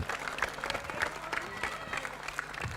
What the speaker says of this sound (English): Kids in the background cheering for their player